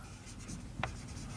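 A pen writes on paper, soft close scratching strokes with one brief sharper scrape, faint and alone, no talk.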